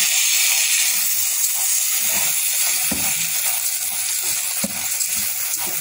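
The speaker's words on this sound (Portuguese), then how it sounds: "Aqui tá fritando batata." Thick-cut potatoes frying in hot oil, a loud, steady, close hiss and crackle of bubbling fat that continues without a break, with faint scrapes and knocks of stirring underneath.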